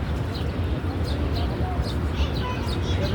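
Outdoor birds of several kinds feeding at a picnic give off small scattered chirps and tweets over a steady low rumble of background noise.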